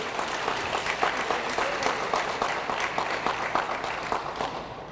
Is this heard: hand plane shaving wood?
no